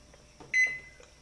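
A single short electronic beep from an oven control panel as the cancel key is pressed, close and clear against a quiet background, preceded by a faint button tap.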